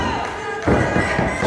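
A wrestler strikes an opponent during a wrestling match. A sharp thud lands partway through, followed by scattered impact thumps over crowd noise and a commentator's voice.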